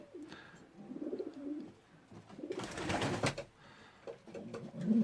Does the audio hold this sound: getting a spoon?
no